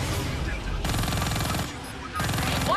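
Automatic ground fire rattles in rapid, loud bursts during aerial combat in Call of Duty Black Ops 3, two dense volleys separated by a brief lull, with rough noise in between.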